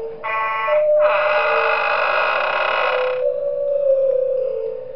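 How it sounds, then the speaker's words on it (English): The alarm in the Five Nights at Wario's High Rollers video game blares, a loud, steady electronic buzzing tone with a short burst followed by a long sustained wail, heard alone without talk. "Luigi, stop him with the alarm."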